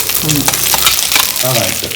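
Manathakkali (black nightshade) tempering frying in a pan, a loud, steady, close crackling sizzle with stirring scrapes throughout.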